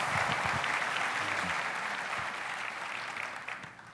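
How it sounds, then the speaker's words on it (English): Audience applause at an opening-remarks event, a dense wash of clapping from a crowd that starts full and slowly fades over four seconds. "Let's give Katie a round of applause"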